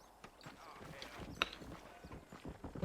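A horse's hooves clip-clop in Red Dead Redemption 2, quiet and uneven against a low background, with one sharper clink partway through.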